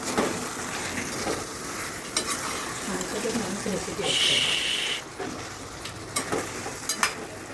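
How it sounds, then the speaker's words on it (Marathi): Vegetables such as capsicum are sautéed in a pan for a veg pulav, with continuous sizzling and repeated spatula scrapes and clinks against the pan while someone talks over it. "हे बघा आता मी त्यांना चांगलं असं परतते"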